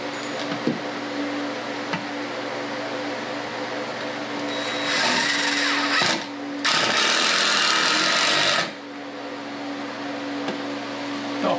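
A power drill drives screws into subfloor boards during a water-damaged subfloor replacement, sounding as two loud, close whirring bursts of a few seconds each, separated by a brief pause, over quiet background hum.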